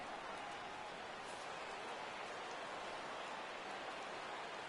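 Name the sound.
rain falling in baseball video game MLB The Show 2015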